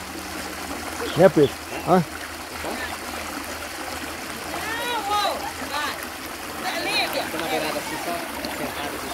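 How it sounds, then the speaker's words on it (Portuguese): A small waterfall pours over rocks, a steady soft rush of flowing water running underneath, while someone talks over it now and then. "uma simples queda d'água, ó. Ó o barulhinho gostoso, ó."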